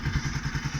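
A Bajaj Pulsar NS 200 motorcycle engine throbs faintly in a quick, even pulse, a low rhythmic thrum that sounds close to idle and lasts under a second, with no talk.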